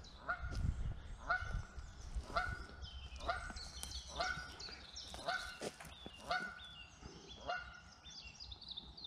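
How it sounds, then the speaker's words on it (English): A Canada goose honks repeatedly on a springtime walk, about eight loud, evenly spaced calls ringing out fairly close by with no talking over them. "another Canadian goose there."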